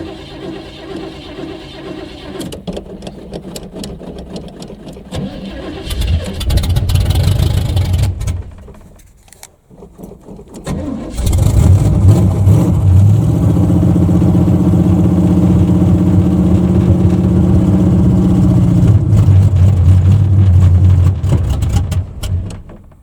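A 1980 Chevy Malibu Landau's engine cranks, catches and runs rough, heard from inside the car, then dies after a short silence and is restarted, settling into a loud, steady idle before fading near the end.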